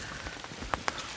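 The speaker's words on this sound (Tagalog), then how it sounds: "Ang lakas po talaga ng ulan mga kabayan, no?" Heavy rain pours steadily on surfaces, a dense close hiss with a couple of sharper drip or splash taps, and no talk.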